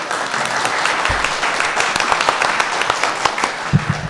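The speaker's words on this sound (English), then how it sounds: "Let's give them a round of applause." A city council audience applauds as board members stand, with a brisk, moderately loud burst of clapping carrying a few sharp individual claps and some low thumps.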